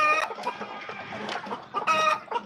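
Chickens inside a farm shed cluck and squawk in several close, overlapping bursts, with one louder outcry near the end.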